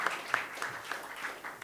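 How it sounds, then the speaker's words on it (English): Faint, scattered clapping from a conference audience applauding the speakers at an international trade policy session, a handful of soft irregular claps over a brief stretch. "I ask the audience for another round of applause for our speakers."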